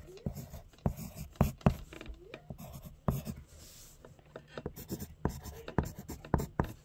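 Pen or pencil writing by hand on paper while drawing, with quick scratchy strokes and taps in an irregular rhythm, close and fairly clear, with occasional faint speech.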